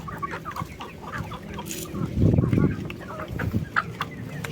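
Kabir chickens clucking and squawking at feeding time on a backyard poultry farm, a dense, close flock of busy clucks with a louder burst of flapping and calls midway.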